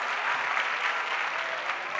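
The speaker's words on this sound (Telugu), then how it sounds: "ఇదేం క్లాప్స్ కొట్టడం, కనీసం అదే నాకు బాగా కొట్టాలి" Audience applause at a Telugu motivational stage event, a steady moderate patter of many hands lasting a couple of seconds, with a voice faintly mixed in.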